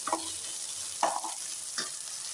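Okra and green chillies stir-frying in a pan, a steady soft sizzle broken by three scraping strokes of a spatula spaced about a second apart, close and fairly quiet.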